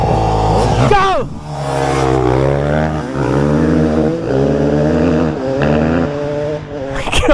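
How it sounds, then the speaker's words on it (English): A KTM 250 and a Yamaha 450 dirt bike rev hard in an off-road drag race, engines close and loud, rising and falling through repeated gear changes, with voices talking over them. "We got the KTM 250. We got the Yamaha 450."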